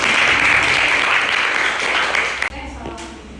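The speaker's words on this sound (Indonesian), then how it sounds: "Tepuk tangan dulu buat kalian semua nih." Students in an Indonesian classroom applaud together in a loud, steady burst of clapping that fills the first two and a half seconds, then drops off abruptly to scattered claps and room noise.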